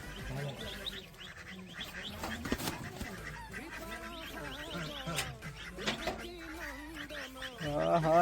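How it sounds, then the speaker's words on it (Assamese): Several geese honk and squawk repeatedly at a moderate distance, overlapping harsh calls with a few faint voices mixed in. "গঁৰালটোত বৰ মস্ত মস্ত হাঁহ আছে যেন পাইছো, বৰ বেলেগ চিঞৰিছে"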